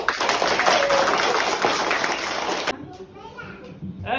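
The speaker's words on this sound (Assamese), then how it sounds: "সকলোৱে হাত তালি বজাই" Children clap their hands together in a burst of dense applause at a school gathering, loud and continuous for a few seconds before cutting off abruptly, after which voices and scattered sounds carry on in the room.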